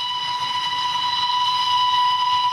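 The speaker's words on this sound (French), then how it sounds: "Arrivé en gare au son du sifflet." A train whistle sounds on arrival at a station in Sibiu, Romania: a steady, shrill whistle holding one pitch over a low rumbling hiss, sustained and fairly loud for the whole moment.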